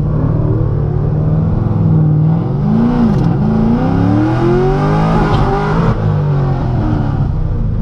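A cammed C6 Corvette launching at a drag strip, its engine rumbling loud and close, with a choppy idle rising into revving sweeps and no voices.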